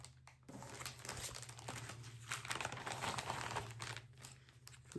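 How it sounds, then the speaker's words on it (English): A plastic bag crinkles steadily as a cross-stitch project is pulled out of it, a near, continuous rustle with a low hum beneath. "Just going to apologize ahead of time for all the crinkling."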